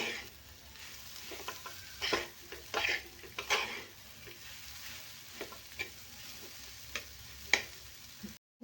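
Coarse ground dal filling for kachori is stirred in a pan, soft frying hiss under repeated metallic spoon scrapes and taps, quiet and close, ending abruptly.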